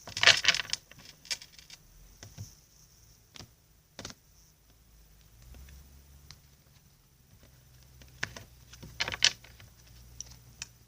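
Tarot cards being cut and shuffled by hand, with soft papery slaps and taps at irregular intervals, a few sharper snaps near the start and end, close and quiet.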